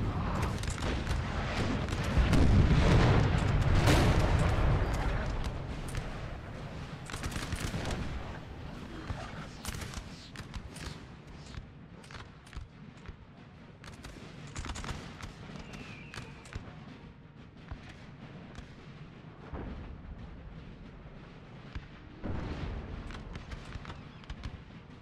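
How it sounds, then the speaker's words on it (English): Artillery fire in a Napoleon Total War battle thuds repeatedly with scattered booms and cracks, a dense rumbling barrage at moderate distance that swells early, then thins into irregular distant shots. "France is just getting torn apart here by artillery"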